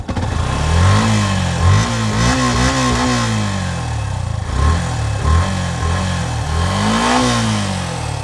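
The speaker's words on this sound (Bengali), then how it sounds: "আমি বাইকটা স্টার্ট করে ফেলেছি এবং ইঞ্জিনের সাউন্ড শুনতে পাচ্ছেন কত স্মুথ আছে ইঞ্জিনের সাউন্ডটা" A Yamaha FZS V3 ABS motorcycle engine runs close by, its pitch rising and falling in repeated revs over a steady rumbling idle.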